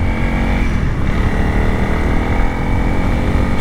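A Honda CRF300L dual-sport motorcycle's engine while being ridden, a loud, steady droning hum with a constant pitch, close and continuous with no talking.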